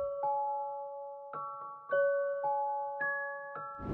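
A dark melodic sample, compressed, EQ'd and pitched down, plays sparse sustained tonal chords. New notes strike at uneven intervals and ring on, heard alone and fairly quiet.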